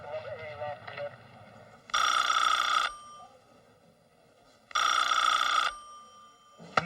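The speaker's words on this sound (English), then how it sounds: "Just answer the phone, wimp. Pick it up." A telephone rings in two long bursts separated by a pause, loud and close, with a voice briefly before the first ring.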